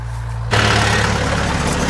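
A DTZ 5404 tractor engine idles with a steady low rumble, then revs up louder and rougher midway and holds that heavier drone, close by.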